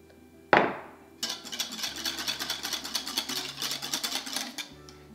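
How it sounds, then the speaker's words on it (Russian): Egg yolks whisked with milk in a pot for custard cream, a quick rhythmic metal clatter of whisk against the pot running steadily after a single sharp knock, close and fairly quiet, with no talking. "Также тонкой струйкой постоянно желтки мешаю, чтобы там ничего не сварилось."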